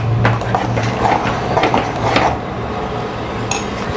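A utensil stirs rice porridge (kuzh) in a pot, giving a run of irregular scraping and clinking knocks against the metal, close and fairly clear with no talking over it.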